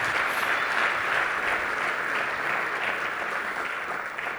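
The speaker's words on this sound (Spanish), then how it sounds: "Dele el aplauso al Señor." A church congregation applauds during a sermon, with sustained, dense clapping from many hands that stays loud and even before easing slightly at the end.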